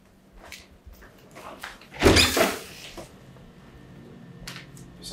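A door is opened indoors in a home during a Nollywood drama scene: one loud clunk and rattle midway, preceded and followed by quieter handling noises, with faint voices in the room.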